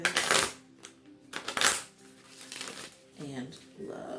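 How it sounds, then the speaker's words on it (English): Playing cards being shuffled by hand during a tarot-style love reading, two quick riffling bursts close up, followed by a softer card handling sound and quiet speech. "One more shuffle."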